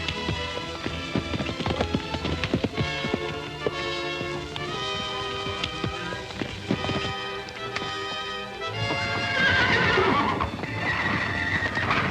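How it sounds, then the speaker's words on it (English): A pinto stallion whinnies in a western setting as hooves clip-clop in repeated sharp beats, with several loud neighs over the busy hoofbeats and a rushing, rain-like wash near the end. "Tie the Pinto Stallion up and get ready to turn Volcano loose."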